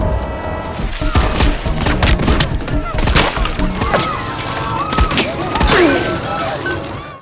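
Rapid bursts of gunfire crack and boom amid shattering debris, layered with dramatic music and occasional voices in a loud, chaotic scene.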